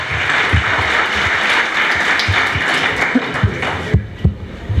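Lecture audience at a talk on urban land subsidence applauding, a loud sustained mass of clapping with some sharper individual claps and thumps near the end as it begins to thin out.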